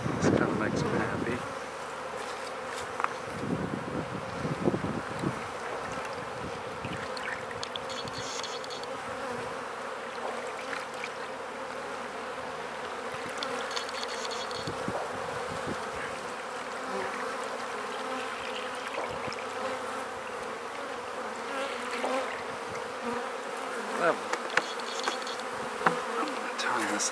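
Bees buzzing around a hive, a dense continuous hum of many insects close by, with occasional louder passes near the microphone and light handling noise throughout.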